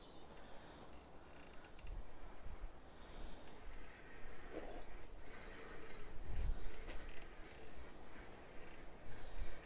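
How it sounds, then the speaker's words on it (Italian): Small birds chirp faintly along the lakeside bike path at Limone sul Garda in Italy, brief high calls mixed with rattling, ratchet-like bicycle mechanism noise and moving outdoor background. "Qui gli uccellini."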